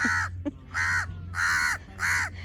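Seabirds called gulls squabble at the Mosaique Beach Resort in Taba, Egypt, with four loud, harsh, evenly spaced calls close by over a low steady hum.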